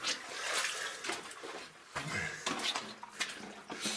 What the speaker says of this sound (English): I'll go for my first swim.